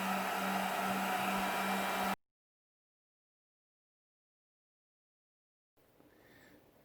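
An FD-200 battery discharger runs with a loud, steady fan-like whir resembling a small hairdryer on low, which cuts off abruptly, followed by silence and then faint background sound.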